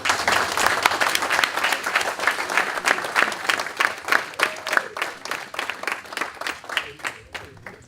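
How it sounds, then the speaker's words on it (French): An audience applauds at a family celebration of a graduation, loud dense clapping that thins toward the end into sparser individual claps, with faint voices underneath. "tout le monde peut l'applaudir s'il vous plaît."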